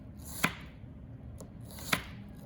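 A kitchen knife rocks front to back through a red onion on a cutting board, giving two crisp, close chops about a second and a half apart over a low, steady room hum.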